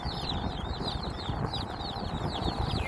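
A flock of chickens clucks and chirps continuously against a steady, noisy background, with many overlapping calls close by.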